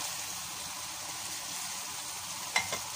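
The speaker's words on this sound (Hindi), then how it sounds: "इसको फिर मैं अच्छे से भूनती हूँ थोड़ी देर के लिए" Chicken and tomatoes frying in a pan, a steady close sizzle with faint stirring and a couple of sharp clinks near the end.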